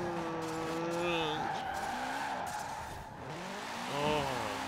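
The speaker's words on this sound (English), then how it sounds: "these are sick drifting corners" A rally car in Forza Horizon 4 drifts through snowy winter corners, its engine whining up and down through gear changes with sustained tire squeal, and a person talks over it.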